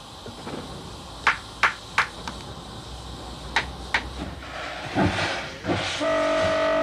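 A Liberation class steam locomotive hauls a train on a railway crossing the Tian Shan, with sharp clanks and wheel knocks at irregular intervals over a rumbling run, ending in a sustained horn-like tone.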